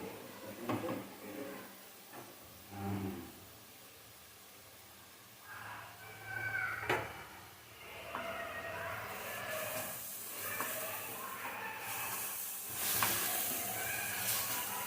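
Pav bhaji masala frying in oil for street-style pav bhaji, a low steady sizzle with intermittent scraping stirs, close and fairly quiet, growing hissier toward the end.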